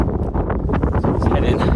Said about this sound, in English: I'm just trying to figure out where the wind is actually coming from